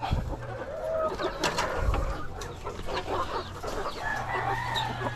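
Dekalb Brown chickens cluck and murmur close by, with a rooster crowing partway through, over a low background hum.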